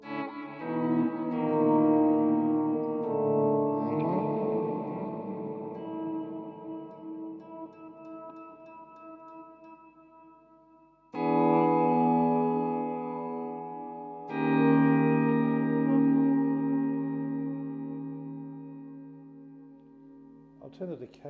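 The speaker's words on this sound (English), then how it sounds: "the reverb comes in later" Electric guitar chords ring out through a Cuvave reverb pedal, sustained notes swelling and trailing into a lingering wash of reverb, with fresh strums near 11 and 14 seconds blooming into long decaying tails.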